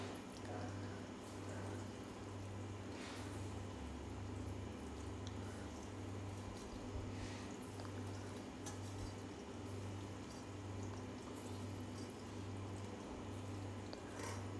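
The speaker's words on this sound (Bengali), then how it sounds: "সেই কটা ভেজে নিই, চিকেন পিস রয়ে গেছে যা" Chicken pieces frying in a pan give a faint, steady sizzle and bubbling, continuous throughout, with a low repeating hum underneath.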